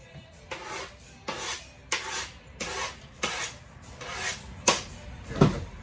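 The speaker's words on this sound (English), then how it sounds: "if you're scraping off with a knife, always use the back of the knife." The back of a knife scraping pepper seeds off a cutting surface in a home kitchen, with about seven close, evenly spaced rasping strokes and quiet gaps between them.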